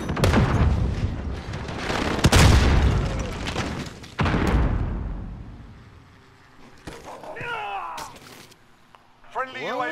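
A frag grenade blows up in a video game, heavy booms and blasts crowding the first seconds before fading into scattered gunfire and distant game effects, with voices calling out.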